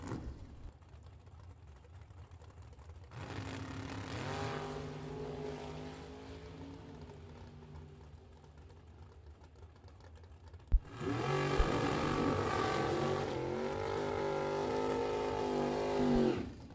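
Corvette Roadster and Camaro drag racing at a bracket nationals Super Pro event, with a steady engine drone that gives way to a much louder, sustained roar of revving engines near the end, no voices.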